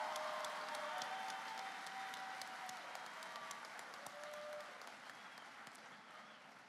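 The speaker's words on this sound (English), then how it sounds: "Let's give them all one more round of applause." A graduation ceremony audience at Lamar State College Orange gives a sustained round of applause, a dense even wash of many hands clapping with a few sharper nearby claps, slowly fading toward the end.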